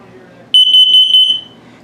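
Test cycle of an LP and carbon monoxide detector in a 2022 Mesa Ridge 373RBS RV: a loud, shrill electronic tone sounds in a rapid pulsing burst for under a second, with faint room noise before and after.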